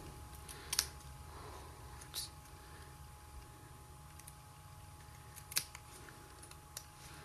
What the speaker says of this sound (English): We're now going to use our scissors, and we're just going to create